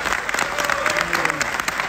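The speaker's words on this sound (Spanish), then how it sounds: "un aplauso para Pablo, que es un guitarrista increíble" A crowd at a live event gives a guitarist a round of applause, dense clapping and cheering close by, with voices calling out over it.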